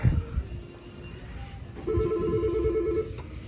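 Telephone ringing inside a Goodwill thrift store, a steady electronic ring tone running for about a second and a half amid faint store background noise and brief low voices.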